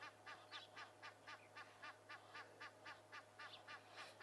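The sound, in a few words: goose calling near a dam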